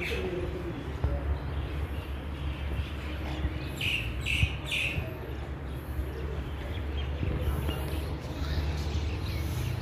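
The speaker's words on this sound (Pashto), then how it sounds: "مرغیو غږونو تاسو ګورئ اورئ که نه" Birds chirp and coo faintly at the Khizr mosque in Samarkand, with a few brief tweets rising out of a constant outdoor hum and murmur.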